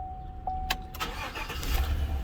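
A 2017 Chevy Silverado with a no-start fault cranks and catches briefly, starting at a moderate level close by after a short tone, with no talking.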